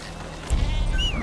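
A sheep bleats in Metal Gear Solid V: The Phantom Pain, a short wavering cry rising near the end over a low outdoor rumble, fairly close and clear.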